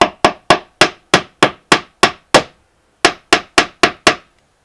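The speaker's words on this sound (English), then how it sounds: "so just give it a little tap with a hammer" Rapid sharp hammer taps on wooden pegs being set flush into a peg rail, eight in a quick even run, a brief pause, then five more, close and loud.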